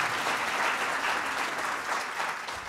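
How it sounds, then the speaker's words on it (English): An audience at a sports psychology leadership talk applauds steadily for a few seconds, a dense wash of clapping that holds level and tapers slightly at the end, with no voices over it. "A round of applause."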